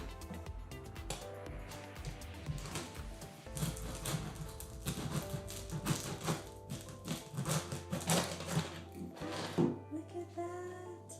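A knife saws through a crusty homemade loaf, with a series of rough crunching and scraping strokes that grow denser toward the end, close and moderately loud.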